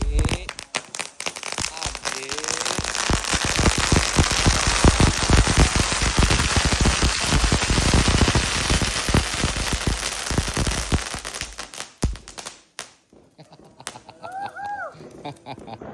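Naga firecrackers set off at a Hari Raya celebration, a loud, dense crackling barrage of rapid pops lasting about twelve seconds before stopping abruptly, followed by quieter voices.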